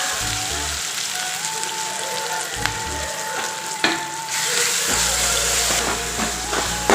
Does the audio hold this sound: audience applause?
no